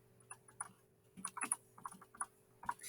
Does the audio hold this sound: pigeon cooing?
no